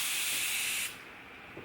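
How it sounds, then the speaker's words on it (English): Continuous-spray bottle misting water, a short bright hiss held steadily for under a second before cutting off, close and fairly soft, followed by quiet room tone. "It's kind of like a spray bottle, but it's a continuous spray."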